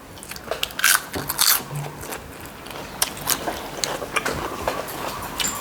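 Close crunchy bites and chewing while eating Isan sausage with fresh raw vegetables such as cabbage and ginger, several loud crisp crunches followed by continuous wet chewing.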